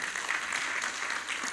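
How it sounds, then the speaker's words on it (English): Audience applause at a university conference on sustainable development in Abuja, honoring the convener: a dense, steady round of clapping from a seated crowd, continuous and moderately loud throughout. "please a louder round of applause for our convener"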